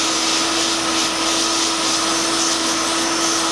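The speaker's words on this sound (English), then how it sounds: "we're gonna melt the tip of the welding rod like this," A Vittaci Rocket plastic welder melts a welding rod tip for repairing a car's plastic front bumper, giving a loud, constant blower-like whir with a steady tonal hum, close and uninterrupted.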